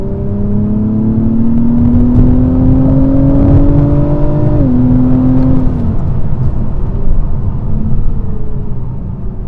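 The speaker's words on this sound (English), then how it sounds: "The actual tone of the engine and the exhaust changes." A 2024 Acura TLX Type S in Sport Plus mode with its 10-speed automatic revs up, its engine and exhaust rising in a loud climbing drone, dropping sharply at a shift, then settling into a steady rumble.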